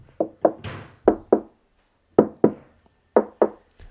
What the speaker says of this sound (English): if you can listen to the different types of knocks through the microphone